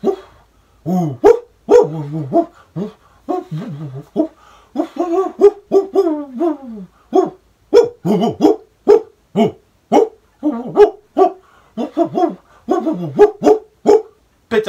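A person imitates a dog, giving a long run of loud, close barks and yaps in irregular bursts, with a few howl-like drawn-out calls early on.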